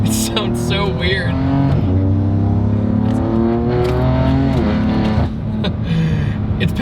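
A BMW M3 F80 with a dual intake system revs up and down, its engine tone rising and falling in several sweeping pulls, loud and near, with a person talking over it.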